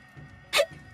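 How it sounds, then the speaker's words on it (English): A single short hiccup from a character in the video game Tales of Xillia, a sharp burst standing alone over quiet background. "acute hiccup disorder. It's totally flaring up."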